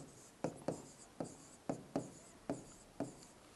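Pen writing numbers on paper during a maths lesson, a series of about eight short distinct scratching strokes at an irregular pace, close and fairly quiet.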